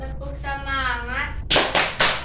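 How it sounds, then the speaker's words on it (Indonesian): Schoolchildren in a fifth-grade classroom doing a rhythmic 'tepuk semangat' spirit clap, three sharp, loud group claps in a steady beat following a sung or chanted children's voice. "sekarang kita tepuk semangat dulu ya"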